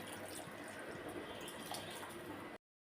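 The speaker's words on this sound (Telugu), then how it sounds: "చింతపండు పులుసు, కొంచెం వాటర్ వేసుకోవాలి" Water pours into a pan of soaked-tamarind pulusu being made for chicken curry, a steady close splashing stream lasting about two and a half seconds before cutting off to silence.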